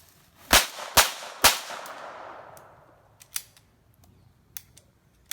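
Close, sharp gunshots from a .22 LR handgun firing CCI ammunition, three evenly spaced loud cracks with ringing decay, then several smaller clicks and snaps of handling.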